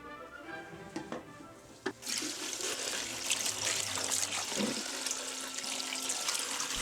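Tap water starts running partway through to wash developed photographic film at home, a steady rushing splash after quiet handling noises, fairly close and continuous.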